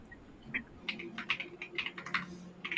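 Quiet keyboard typing, a quick irregular run of light clicks and taps in a calm room.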